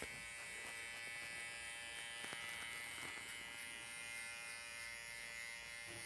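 An electric hair clipper buzzes steadily and close up while cutting a tight fade, its constant drone holding through the whole stretch with small shifts as the blades move through the hair.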